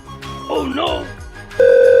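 After a voice speaks, a telephone call to customer care begins with a steady, loud electronic tone that starts abruptly and holds to the end.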